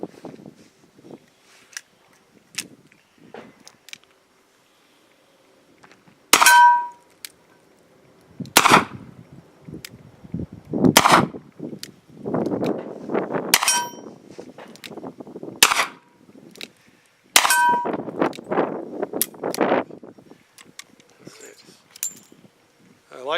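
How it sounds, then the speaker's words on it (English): An S&W Governor revolver fires .45 ACP rounds in moon clips at steel targets 15 yards away: sharp, loud shots at irregular intervals, several followed by ringing metallic pings from the plates, with quieter handling sounds and faint voices between. "shoot the Governor with the 45 ACP with the moon clips from 15 yards at steel"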